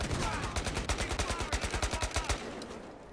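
SG-510 battle rifle firing in Battlefield Hardline, a steady rapid burst of about twenty evenly spaced loud shots over a dense game soundscape, then stopping abruptly.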